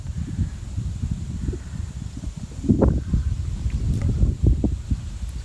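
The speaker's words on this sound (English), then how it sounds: "We got plenty of wind, I know that." Wind gusting outdoors on a fishing outing, a steady low rumble of buffeting against the microphone with stronger surges partway through, loud and close throughout with no voices.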